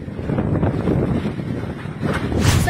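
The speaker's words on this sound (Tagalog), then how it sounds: "Ganito katindi ang hampas ng hangin sa Batanes sa kasagsagan ng pananalasa ng bagyong Julian kahapon." Strong typhoon wind in Batanes, Philippines, roars and buffets steadily against the microphone, with gusts surging louder toward the end.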